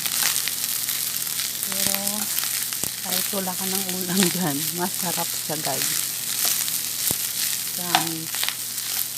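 Leftover rice stirred in a hot frying pan gives a steady sizzle and hiss throughout, with scraping stirs and a voice talking intermittently over it.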